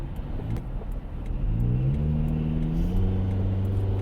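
Cars driving past on a main road, engines rumbling and rising as vehicles accelerate by, loud and continuous throughout with no talking.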